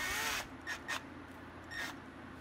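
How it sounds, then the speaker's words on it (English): A power drill spins a small part from a vintage MAICO DC pocket meter for polishing. It gives a brief whirring burst followed by a few shorter, fainter bursts of spinning, recorded quietly up close. "I actually chucked this up in the drill."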